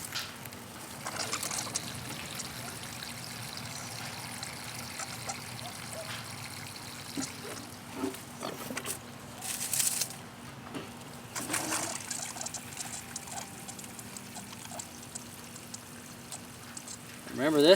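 Tap water poured from buckets onto a vegetable garden, a steady soft trickle and splash running through most of the stretch with a few louder gushes, while a person talks over it.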